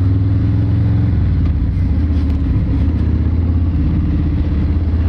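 Harley-Davidson Fat Bob motorcycle engine while riding, a loud, steady low rumble that runs continuously and close throughout, with no talk over it.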